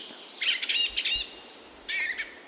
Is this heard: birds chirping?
yes